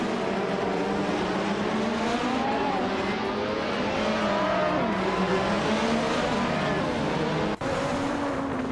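A March 881 race car and rival cars in a racing video game drone continuously at high revs, with engine pitch rising and falling through gear changes and one sharp click near the end.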